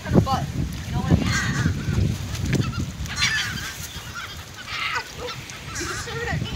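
Geese and ducks being fed bird seed by children at a boat launch, honking and squawking repeatedly and fairly close, with children's voices and chatter mixed in throughout.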